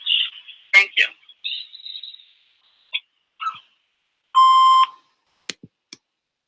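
A recorded voicemail greeting plays as a phone-line voice, then after a pause a single steady electronic beep sounds for about half a second, followed by faint clicks.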